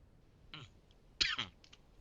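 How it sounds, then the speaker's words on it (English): A person coughs and clears their throat away from the microphone, two short raspy bursts about half a second apart with small clicks between, set against quiet room noise. "Don't want to cough directly into mic."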